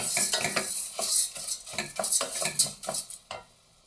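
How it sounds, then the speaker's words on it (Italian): Rice toasting with onion in a pan for risotto, stirred steadily with a utensil scraping and clicking against the pan over a soft sizzle, rhythmic strokes close up for a few seconds. "Cipolla pronta, giù il riso e lo faccio tostare qualche minuto."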